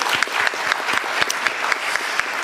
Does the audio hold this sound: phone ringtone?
no